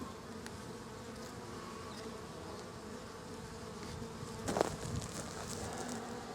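Bees hum around a beehive in a steady, fairly faint drone, with a few louder buzzes as individual insects pass close.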